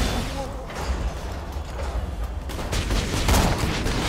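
Gunfire from a slow-firing gun in the video game Borderlands, with spaced, dull shots and bursts popping over constant game noise and some background chatter.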